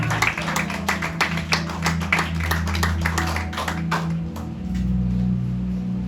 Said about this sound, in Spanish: Démosle ese fuerte aplauso al Señor